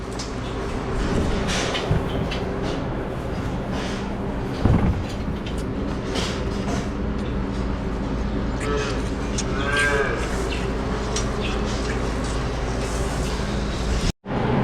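Dairy calves on a Wisconsin farm moo repeatedly at close range, a few loud bellows rising over steady barn machinery hum, with a sharp clunk near the end.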